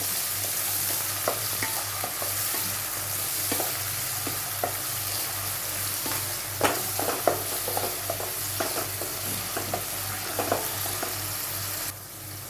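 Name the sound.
onion and tomato sautéing in hot oil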